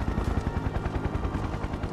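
A helicopter in the video game Final Fantasy 7 Remake gives off a dense, continuous rotor thumping, a rapid rhythmic chop that fills the low end steadily throughout.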